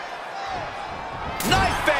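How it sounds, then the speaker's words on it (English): A knife edge chop lands during a SmackDown tag match between The Mysterios and The Agents, a sharp slapping crack that rings out through the arena over a steady crowd roar, with a lighter echoing follow-up moment later. "Knife edge chop echoing through the arena."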